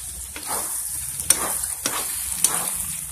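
Fried liver (kaleji) drops into hot masala and oil in a pan, giving a steady close sizzle with a few bursts of stirring and spattering.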